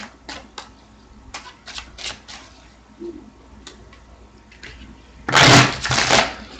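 Scattered light clicks and snaps of cards being handled, ending in a loud, dense riffle shuffle lasting about a second, close and with no talk.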